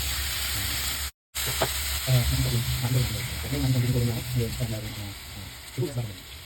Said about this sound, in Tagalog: So guys, isi-sear lang natin itong pork bago tayo mag-isa.